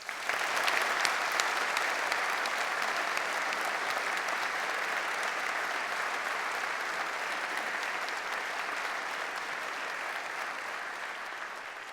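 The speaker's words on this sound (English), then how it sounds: "A round of applause." Graduation ceremony audience in a university hall applauds at length, a broad, sustained wash of clapping from many hands that stays loud and steady before slowly easing off.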